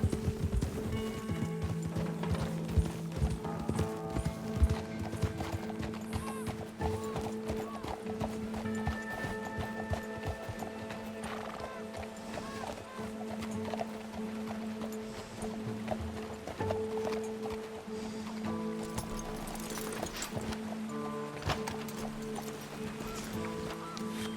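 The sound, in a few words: horse hooves clip-clop from video game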